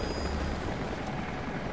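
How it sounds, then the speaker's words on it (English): Helicopter approaching in the video game Rise of the Tomb Raider, a steady low rotor rumble that holds throughout with no one speaking. "helicopters are headed your way."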